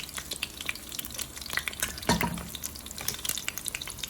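A pancake fries on a hot Korean BBQ grill, giving a soft, steady sizzle with faint scraping and stirring noises and a brief louder clatter midway, heard alone without talk.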